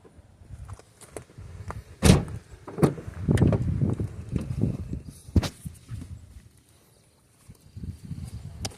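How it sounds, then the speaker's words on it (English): Someone works a stuck back door open using straps, making sharp knocks, clunks and rattling scrapes in irregular bursts, a loud bang near the start, then quieter fumbling before it falls nearly silent. "This is what I gotta do right now to open my back door"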